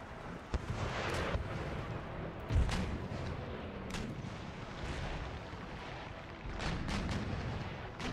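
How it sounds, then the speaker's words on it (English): A naval broadside of ship cannons firing round shot in an Empire Total War sea battle, a continuous rumbling barrage of booms with sharper blasts scattered through, loud and dense, no talk. "Switch to round shot. Begin to fire at will."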